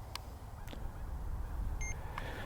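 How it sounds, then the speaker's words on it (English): A C-FLY Faith 2 Pro drone controller gives one short, faint electronic beep as it powers on, set against a quiet room with a few soft clicks and handling noises. "Makes a beep"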